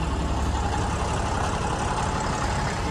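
A rented motorbike idles in Amritsar, a steady, continuous engine rumble with a broad, even noise that holds unchanged throughout, close by and with no voices.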